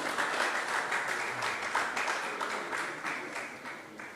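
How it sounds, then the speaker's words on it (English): An audience applauds at a convocation ceremony, steady dense clapping that gradually fades over a few seconds, with no talk over it. "Ladies and gentlemen, another round of applause for him."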